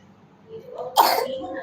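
One sharp, close cough, preceded by a brief throaty rasp, rises suddenly out of a quiet room.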